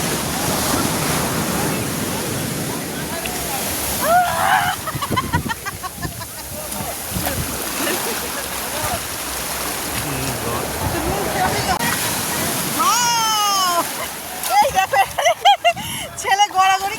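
Sea waves wash and break on the beach at Digha, a steady surf roar with gusts of wind noise on the microphone, while people talk and shout nearby over the water.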